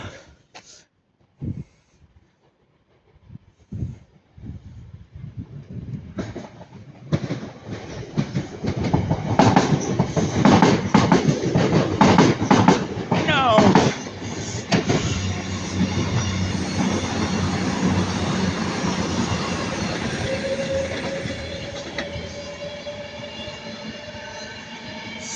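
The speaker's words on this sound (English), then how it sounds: "here comes the Pendolino anyway" An Avanti West Coast Pendolino electric train bound for Manchester Piccadilly passes at Ardwick, a few faint clicks first, then a loud, close roar of wheels and rail noise building and holding steady for most of the pass.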